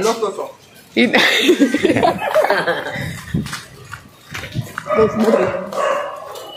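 A dog barks a few times, close and loud, mixed in with people talking and chuckling.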